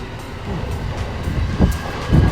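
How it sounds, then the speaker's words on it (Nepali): A train rumbles past behind a park in Japan at a moderate distance, a steady low roar with rhythmic thumps from the wheels. "पार्कको पछाडि रेल रहेछ, रेल पनि गइरहेको"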